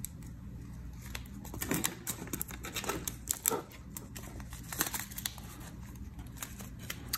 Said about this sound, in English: Let's see if I can get this little envelope open.